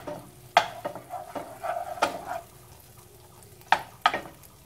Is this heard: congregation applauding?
no